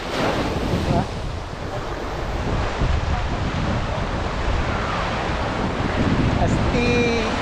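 Steady ocean surf and strong wind at Patar Beach in Bolinao, Pangasinan, a continuous close roar of breaking waves with heavy wind buffeting the microphone throughout, and no clear pauses.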